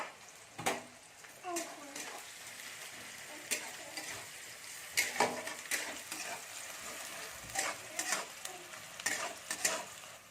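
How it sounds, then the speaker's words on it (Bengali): Three large, finely chopped onions fry in a pan for matar pulao, a soft sizzle broken by repeated sharp scraping strokes of stirring, close and uneven in rhythm. "পেঁয়াজগুলোকে আমি একটু ভেজে নেব"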